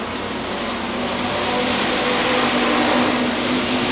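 A hobby stock race car roars steadily past at a dirt track in Minot, a broad continuous engine drone that swells slightly as it nears.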